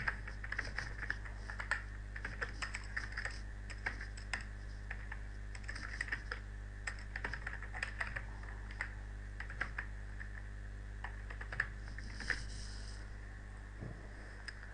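Steady typing on a computer keyboard while entering glossary terms for translation software, a continuous stream of close, crisp keystrokes over a constant low electrical hum.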